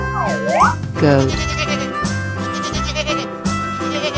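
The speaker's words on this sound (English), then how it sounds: "Goat." A goat bleats in a 3D animal video game, one wavering bleat followed by a shorter one, loud over cheerful looping game music.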